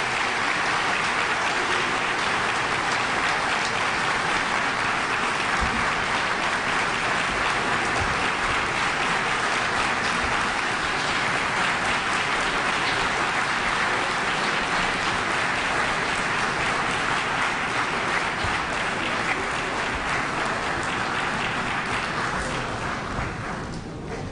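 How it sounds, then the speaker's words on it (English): Sustained applause from a large audience welcoming leaders at a formal event, dense and even clapping that holds steady for about twenty seconds before easing off slightly at the end. "Let us give a warm round of applause to welcome the leaders."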